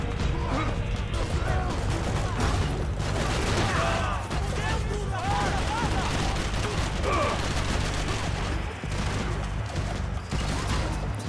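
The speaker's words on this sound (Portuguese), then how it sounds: "Quem tá atirando assim em mim?" Dense, continuous gunfire from enemies in Max Payne 3: rapid shots and bursts overlap with crashes and clatter throughout, loud and unbroken, while a voice talks over the fighting.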